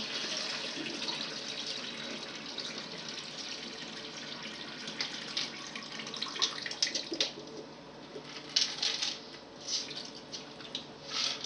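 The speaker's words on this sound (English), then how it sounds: "Dump the water out." Soaking water from red beans is poured out into a kitchen sink, a steady splashing, gurgling stream of water that runs throughout at close range.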